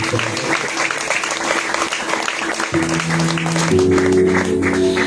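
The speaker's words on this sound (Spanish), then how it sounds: "un fuerte aplauso al que vive para siempre" Church congregation applauding strongly and continuously throughout, a dense steady wash of clapping filling the room, with an organ or keyboard chord sustaining underneath.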